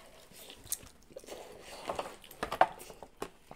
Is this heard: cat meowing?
no